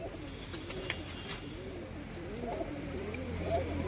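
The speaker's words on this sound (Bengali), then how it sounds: "এটা নর পায়রা, নর বাচ্চা।" A young male Andhra pigeon coos in soft, repeated rolling phrases, close by, over a faint steady background hum.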